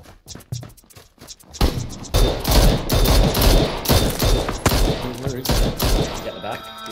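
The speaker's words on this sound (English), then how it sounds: "I just put some shots on him." Rapid bursts of gunfire in the battle-royale game PUBG, loud close volleys with other players talking over them.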